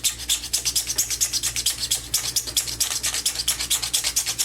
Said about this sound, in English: So what we're going to actually do is back and forth, get that wrap off, and it's not scratching the carbon since it's not a very sharp fletching remover